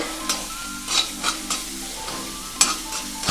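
Onion and chili fry in a pan, giving a soft hiss under a series of quick, close stirring scrapes and clicks that come in an uneven rhythm.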